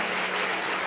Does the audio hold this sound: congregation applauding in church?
yes